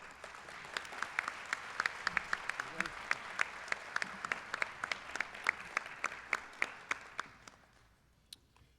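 Audience applause for Mayor Andy Fox at the 2014 State of the City Address, a steady, moderately distant wash of clapping with distinct individual claps that fades out near the end.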